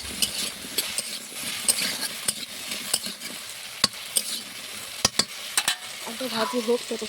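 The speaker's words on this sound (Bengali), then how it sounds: "আলু ভেজে নেওয়ার পরে এই যে লঙ্কা হলুদ গুঁড়ো একটু ফেলে দিলাম।" Fried potatoes sizzling in a pan as chili and turmeric powder are added, a steady crackling hiss broken by sharp clinks and scrapes of a utensil stirring.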